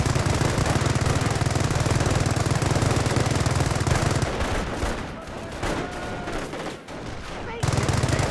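Rapid automatic gunfire from infantry combat in the World War II strategy game Company of Heroes, loud and dense bursts that thin out and pause midway before the heavy firing resumes.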